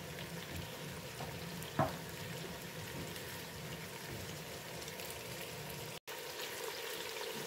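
Turkey tail curry with kale fries in a pan, giving a faint, steady sizzling hiss with one small click early on and a momentary break near the end.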